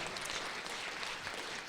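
Audience applause at a voice acting workshop panel, a steady wash of many hands clapping from a crowd, fairly faint and continuous for under two seconds.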